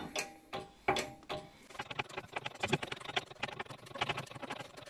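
Clicks and creaking mechanical ratcheting as a uniball bearing shell for a Mercedes W202 axle is pressed in with a press, a few separate knocks first, then a dense run of small ticks, quiet and close.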